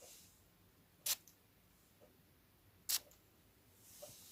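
Two short, sharp hisses of a Mancera Gold Prestigium perfume atomizer spray, spaced about two seconds apart, in a quiet room with faint handling noises.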